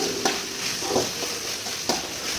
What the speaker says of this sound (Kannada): ಆಮೇಲೆ ನೀಟಾಗಿ ಮಿಕ್ಸ್ ಮಾಡಿಕೊಂಡು ಅದೊಂಚೂರು ಆಯಿಲ್ ಸಪ್ರೇಟ್ ಆಗೋವರೆಗೂ